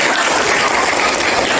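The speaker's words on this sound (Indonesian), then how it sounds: "Tepuk tangan dong." Classroom applause from students during a group guidance session, a steady dense clapping that fills the whole short moment with no voices over it.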